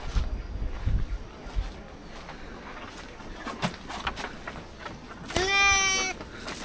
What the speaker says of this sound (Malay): Kambing. Hai kambing.